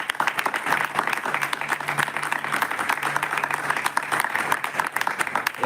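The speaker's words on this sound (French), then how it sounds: "on va vraiment l'applaudir pour cette bravoure" Audience at a Marian teaching session applauding, a sustained burst of many hands clapping with a faint low hum beneath, steady and fairly loud, with no talking.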